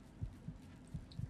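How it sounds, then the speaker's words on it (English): A pounding heartbeat effect in the video game Fallout New Vegas, four soft low thumps spaced unevenly over a quiet hum, faint and with no talk. "if I couldn't stand that heart pounding, you guys really couldn't stand it"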